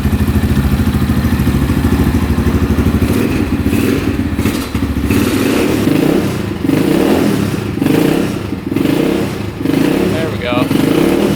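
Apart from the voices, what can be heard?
brand new dirt bike engine running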